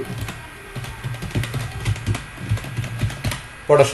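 Computer keyboard keys clatter in short irregular bursts while text is entered in a spreadsheet, fairly close, with a person speaking in Bengali throughout.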